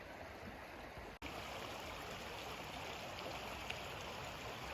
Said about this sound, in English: And the trail continues